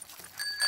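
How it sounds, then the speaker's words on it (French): A cartoon bicycle bell in a French Peppa Pig episode gives a short, bright ring with clear ringing tones near the end, over faint background sound. "Et ici, la sonnette."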